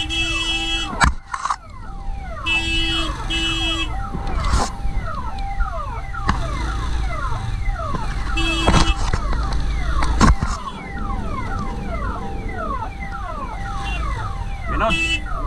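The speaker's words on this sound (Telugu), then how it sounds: "నేను జర అంబులెన్స్ క్లియర్ చేసి వస్తాను" Ambulance siren on a highway heard from a moving motorcycle, a loud wailing up-and-down tone cycling repeatedly over road and wind noise, with horns blaring at intervals.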